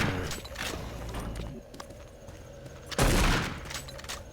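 Rapid gunfire bursts from the shooter game Doom 3 BFG Edition, dense crackling shots with a louder burst of fire near the end, mixed with in-game noise.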